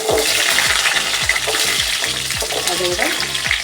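Fenugreek seeds dropped into hot oil for tempering a vatha kuzhambu, a loud dense crackling sizzle with rapid popping spits throughout, very close and without talk.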